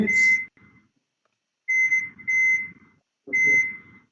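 A kitchen timer beeps in short electronic bursts as it is set, three separate tones spaced over a few seconds, close and fairly loud, with light handling clatter between them.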